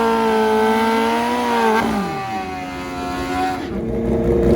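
Drag racing motorcycles, including a Kawasaki KZ, launch down the track with loud, close engine roar that climbs in pitch, dips at a gear change, then rises again.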